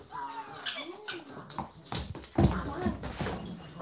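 Noisy puppies whimper and squeak in a busy run of yelps and whines, with a louder burst partway through and a person talking over them.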